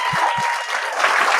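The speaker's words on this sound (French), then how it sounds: "J'aimerais ça qu'on donne une bonne main d'applaudissement pour Julien Lacroix et Gabriel d'Almeida Fredas." Audience applause for guests on a podcast: a steady wash of clapping hands that stays dense and even throughout, fairly loud and close, with a couple of low thumps underneath and no words spoken.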